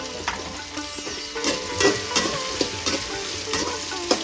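Onions, sliced big onion and garlic tempering in a pan while cooking brinjal curry, a steady crackling sizzle with irregular stirring scrapes and small pops throughout, close and moderately loud.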